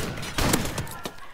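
Rapid bursts of gunfire from a first-person shooter video game, several close shots in quick succession over a noisy backdrop.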